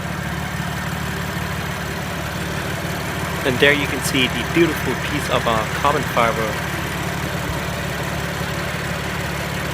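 A 2016 BMW M3 sedan idles with a steady, low engine hum running beneath a voice describing the car.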